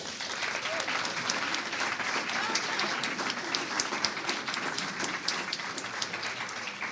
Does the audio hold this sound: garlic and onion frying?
no